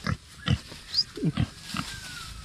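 Pig on a farm at feeding time, giving several short low grunts in a loose rhythm at close range, with faint background noise and no talk.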